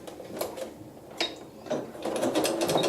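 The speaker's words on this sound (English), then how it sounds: "come forward stitching right on the basting line" A sewing machine stitching along a basting line while trimming and joining fabric gives a soft mechanical whir with light repeated clicks, running close and steady and growing slightly busier toward the end.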